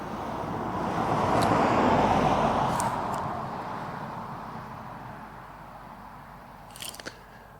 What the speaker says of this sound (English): Got some traffic coming by here.